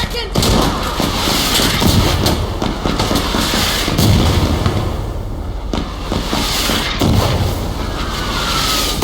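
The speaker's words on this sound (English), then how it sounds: "Mortars incoming!" Incoming mortar rounds in the video game Insurgency land as repeated booming blasts and cracks amid steady battlefield noise, loud and close, with voices shouting over the din.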